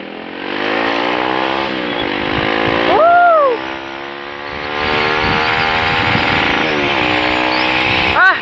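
A Kawasaki D-Tracker 150 motorcycle on a test ride, its engine droning and revving steadily up close, pitch rising and falling through gear changes, with talk over it.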